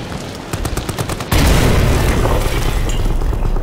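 A French pineapple grenade explodes in a World War I trench in Amnesia: The Bunker. A patter of rapid gunfire cracks gives way to a sudden loud, close boom that rolls on as a sustained roar.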